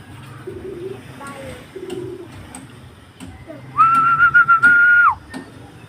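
A racing pigeon arrives at its loft during a race, with soft cooing and bird sounds among nearby voices, then a loud sustained whistle blows near the end.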